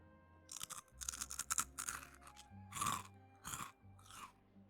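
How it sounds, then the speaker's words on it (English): Someone chews and crunches food right at the microphone in a series of loud, crisp, irregular bursts separated by brief pauses. No one speaks. "if I chew like this, hold on. Like, if I'm really chewing"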